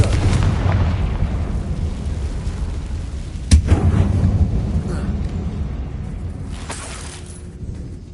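A Confringo blasting spell explodes in a Hogwarts video game, one sharp boom partway through, set against a continuous low rumbling background.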